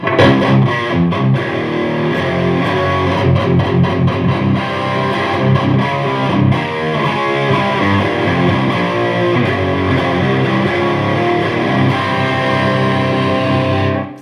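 A loud, saturated electric guitar plays a lead line through a Marshall DSL amp's lead channel with heavy distortion, sustained notes and quick picked runs, dry without reverb.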